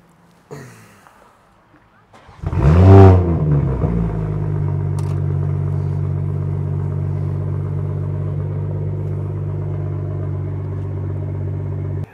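A stage 2 BMW 340i cranks and fires up with a sharp, loud rev flare, then settles into a deep, steady idle rumble close by, following a few quiet handling clicks.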